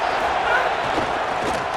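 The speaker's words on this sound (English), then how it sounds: "This crowd ready to make its presence known." A stadium crowd in EA Sports College Football 27 roars in a steady, loud wash of noise that fills the whole moment, with a commentator's voice faintly mixed in.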